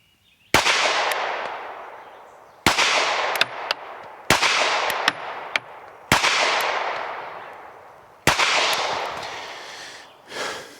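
Gunshots fired while sighting in a HEX Wasp red dot, five sharp loud reports spaced a couple of seconds apart, each with a ringing decay, plus a few fainter clicks between them.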